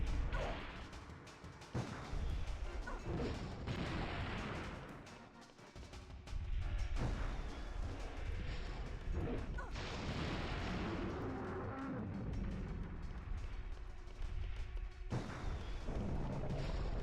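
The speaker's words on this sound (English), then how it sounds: "I'll blast a big one to the place you point to." Artillery strike in the video game Dino Crisis 2, called in by a signal bullet: repeated heavy booms and blasts with whooshing and crashing debris, loud and dense, rolling on continuously throughout.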